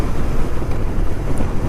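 Steady, loud rushing wind buffeting a motorcycle helmet while riding with the visor open, a continuous roar with no talk.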